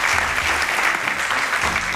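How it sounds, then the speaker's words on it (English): An audience at a procurement lecture in Sierra Leone claps together, producing a loud, dense, continuous round of applause that holds steady throughout. "I want us all to clap for Sierra Leone for that achievement."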